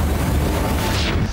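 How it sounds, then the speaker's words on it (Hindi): Explosions from Russian military strikes on Kyiv, a dense, continuous low rumble of blasts filling the whole stretch with no clear separate bangs, loud and steady throughout. "यूक्रेन की राजधानी कीव में रूसी सेना ने 7 ब्लास्ट किए।"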